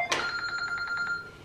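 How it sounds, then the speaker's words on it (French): A mobile phone rings with a bright electronic ringtone, a quick burst of repeating chiming pulses over about a second, fairly close and clear with no talking over it. "c'est mon téléphone à chaque fois"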